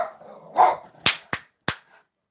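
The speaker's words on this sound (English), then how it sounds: "He gonna keep on barking." Gizmo the dog lets out a low grumbling bark, then three sharp, loud barks in a quick uneven run, close by, with no one speaking.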